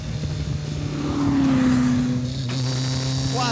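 A Renault Sport Spider sports car passes fast and close, its engine note rising and falling as it goes by, then a fainter drone continues.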